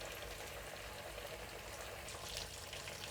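Breadcrumb-coated paneer fries in a pan of oil over medium heat, giving a steady, dense, close sizzle that crackles evenly without pause and with no voices.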